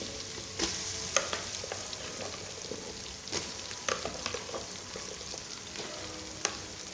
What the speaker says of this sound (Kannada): ಹಾಕೊಂಡು ಚೆನ್ನಾಗಿ ಫ್ರೈ ಮಾಡಿ. ಈರುಳ್ಳಿ ಚೆನ್ನಾಗಿ ಫ್ರೈ ಆಗಿ